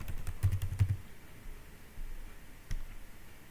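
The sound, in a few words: typing the word confirm on a computer keyboard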